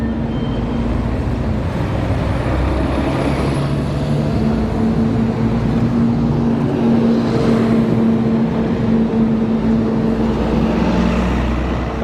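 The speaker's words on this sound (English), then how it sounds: "Buses from 3 through routes turn in from the main road." London buses on three through routes turning in off a busy main road, a steady loud drone of diesel engines and traffic rolling continuously throughout, with a low engine hum rising and holding as vehicles pass close by.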